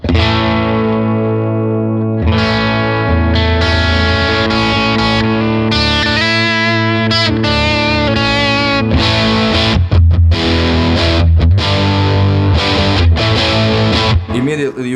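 Heavily distorted electric guitar played through a small Blackstar TV10 amp with a scooped tone, sustained chords and riffs with short pauses, loud and close.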